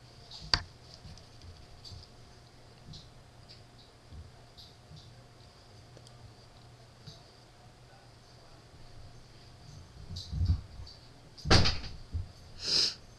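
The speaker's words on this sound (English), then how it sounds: "My dogs are fighting in the hallway and they just went and rammed my door." Dogs fighting in a hallway slam into a door, heard as a few dull thuds and knocks near the end of a mostly quiet stretch, with one louder bang among them.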